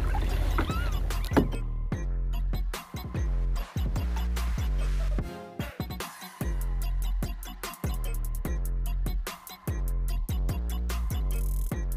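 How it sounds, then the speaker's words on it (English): Kayaks being paddled on a pond, with rhythmic paddle strokes and splashes repeating close by in a regular, unison beat, fairly loud with short gaps between strokes. "these kayakers are like stroking in unison"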